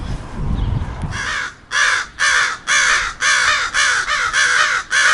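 Several crows caw loudly and repeatedly in rapid overlapping bursts, a raucous, agitated chorus close by after a brief moment of rough background noise.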